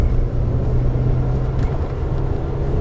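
Audi TT 1.8T engine droning low and steady as the car accelerates through a corner, heard from inside the cabin as a loud, even hum.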